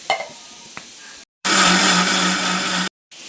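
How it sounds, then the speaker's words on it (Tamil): After a few light clatters, a kitchen mixer grinder roars for about a second and a half, grinding sautéed onion, tomato and chili powder into a paste, then cuts off abruptly. "வதங்கினா வெங்காயம் தக்காளி மிளகாத்தூள் எல்லாம் போட்டு மிக்சியில் அடிச்சிடுறேன்"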